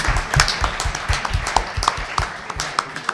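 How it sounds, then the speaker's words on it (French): Conference audience applauding at the launch event of the Chatons d'Or: close, brisk clapping from a modest group, fairly loud, with individual hand claps distinct in a lively, uneven rhythm. "On peut l'applaudir."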